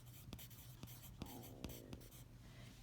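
A pencil scratches on paper in short strokes, making soft rhythmic scribbles with a few sharper taps, quiet and close, with no talking.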